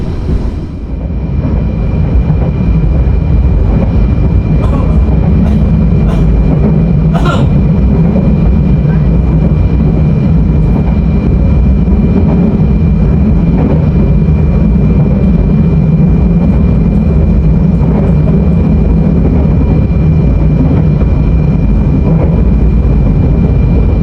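Steady low rumble and rattling of the Ranggajati economy passenger train in Indonesia, heard from inside a modified K3 carriage, continuous and fairly loud, with a few brief clacks and knocks.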